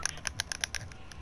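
Quick plastic clicks of game controller buttons pressed in a fast, irregular series, close and fairly crisp.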